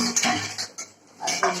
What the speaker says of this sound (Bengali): বাসন ধোয়া